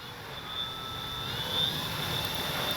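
FMS 1400mm F4U Corsair RC warbird model plane with its electric motor whining steadily at a thin, sustained pitch, heard from a short distance with a soft airy hiss underneath and no talk.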